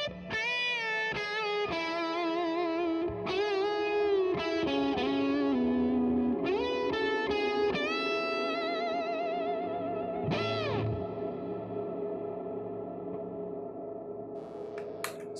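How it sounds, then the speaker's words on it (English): Electric guitar runs through a Fulltone Mas Malo distortion and an MXR M300 Reverb, playing a series of distorted notes and chords with long reverb tails, the last one ringing out and fading alone. "here it is with the MXR M300 Reverb"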